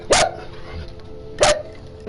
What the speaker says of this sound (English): This is the joys of live streaming with two dogs in the house.